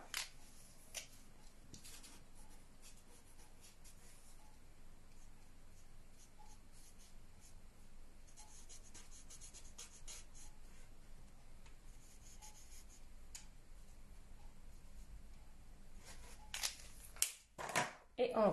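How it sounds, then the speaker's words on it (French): Stampin' Blends alcohol markers rub and scratch steadily across paper, a soft continuous scribbling close by, with a few louder handling knocks near the end. "je colorie avec les Stampin' Blends"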